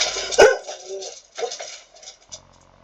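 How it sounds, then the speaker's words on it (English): A dog barks in a short burst, one loud sharp bark followed by a few fainter yips and whimpers, heard close by indoors over a quiet background hum. "Sorry about the dog barking."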